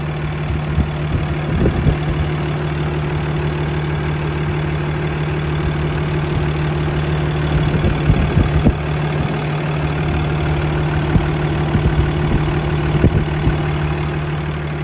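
A 2015 Ford F-750 box truck's 6.7-liter Cummins ISB diesel engine idles steadily with a low, continuous rumble and occasional knocking clatter, close by and without voices.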